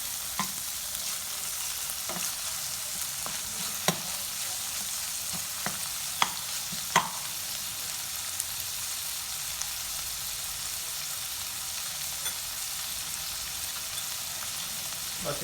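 Chicken pieces fry in a pan for a chicken vegetable bread roll filling, giving a steady, fairly quiet sizzle throughout, broken by a few sharp clicks and scrapes of a utensil.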